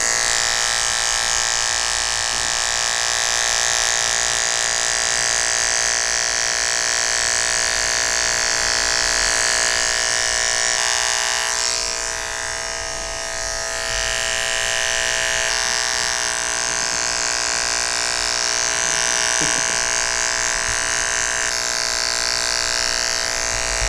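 Electric hair clippers with a 1A guard cut a skin fade on curly hair, a loud, steady high-pitched buzz that dips briefly midway as the blade moves through hair.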